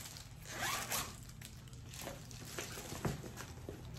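A zipper is pulled open in several quick rasping strokes, close and fairly quiet, with light rustling between pulls.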